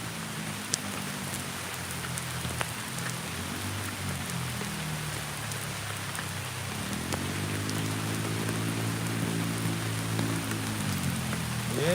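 Heavy rain falls steadily outdoors, a dense, even hiss of drops striking surfaces nearby, with low rumbling noise beneath and no voices.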